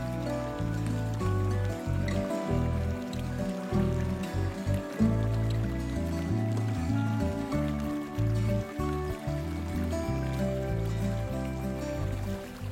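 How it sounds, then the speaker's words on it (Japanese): A hose shower waters a shaded flowerbed on a hot summer evening. Spray and trickling water run continuously and fairly close, with uneven splashing and pattering where the stream lands. "花壇も日陰になったので水やりをしています。"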